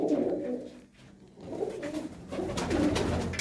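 Pigeons, including a red one, in a loft with breeding pairs, giving low, close cooing that drops out briefly and then resumes over a dull background hum.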